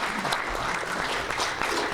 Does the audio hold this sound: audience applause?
yes